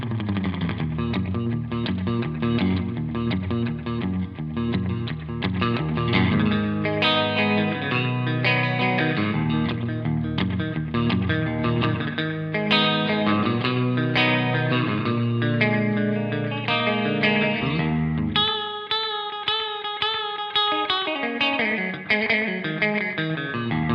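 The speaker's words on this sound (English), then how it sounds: "Let's take a listen to the V Type by itself with a Fender Jaguar and a modulated clean" A Fender Jaguar electric guitar through a Celestion V-Type speaker plays a clean, chorus-modulated tone, chords and picked notes shimmering steadily with a wash of reverb, no voices.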